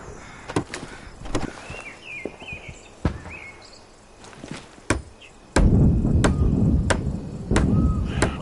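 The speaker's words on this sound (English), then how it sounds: "Use the hammer in your loadout to finish constructing it." In Hell Let Loose Vietnam, a hammer builds a wooden barricade: about a dozen sharp, irregularly spaced knocks and thuds up close, with a heavier rumbling layer of background noise joining for the last few seconds.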